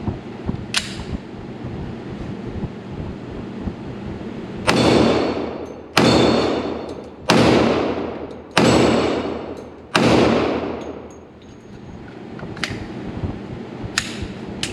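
A Glock 40 Gen 4 10mm pistol fires at steel flappy paddle targets, five loud sharp shots spaced about a second apart with ringing decays, and fainter single reports before and after.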